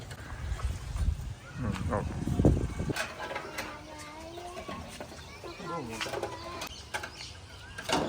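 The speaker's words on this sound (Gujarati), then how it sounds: "તમે જોઈ શકો છો જો પક્ષીઓનો અવાજ પણ આવે છે" Birds chirp and call in short bursts at a moderate distance, mixed with nearby voices talking and some low rumbling handling noise.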